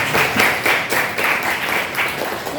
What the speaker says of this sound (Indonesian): tepuk tangan untuk Nadila